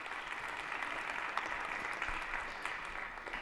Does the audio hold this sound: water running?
no